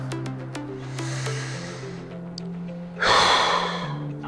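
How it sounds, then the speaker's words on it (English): A single deep breath during a guided stretching routine, heard as a short, breathy burst near the end over steady background music. "breathing nice and deeply"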